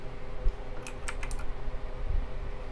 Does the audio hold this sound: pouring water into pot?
no